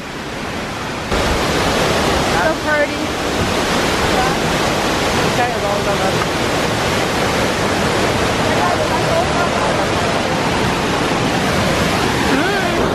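Running water rushes loudly and steadily beside a stone staircase, a constant dense roar like a small waterfall, with a brief spoken remark heard over it.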